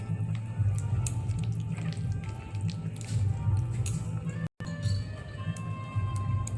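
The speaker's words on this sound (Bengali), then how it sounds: "মেখে নিচ্ছি সামান্য একটু নুন দিয়ে আর বেসন দিয়ে ওলটি ভালো করে মেখে নেব" Chopped elephant foot yam kneaded by hand with gram flour and salt, giving close, wet squishing and squelching sounds in a steady irregular rhythm with no talk.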